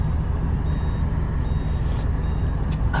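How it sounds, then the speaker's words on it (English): The reverse warning beep of a 1993 Suzuki Carry kei van with automatic transmission sounds over a steady low engine rumble, with faint repeated tones near the end. "A distinctive beep reminding you that you're in reverse gear."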